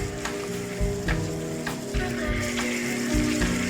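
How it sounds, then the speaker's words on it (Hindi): Masala frying in a pan for stuffed eggplant, leftover spice paste added and roasted. Steady close sizzle with scattered stirring clatters throughout, moderately loud, no voices. "तो इसके साथ ये भी अच्छे से भुन जाएगा। तो अभी और थोड़ा इसको भुनेंगे।"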